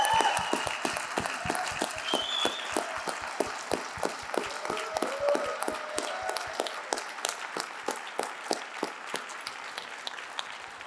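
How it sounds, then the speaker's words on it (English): Audience applause at a summit event, steady clapping from a crowd that holds at an even level for about eleven seconds and thins slightly toward the end. "Give these guys a round of applause."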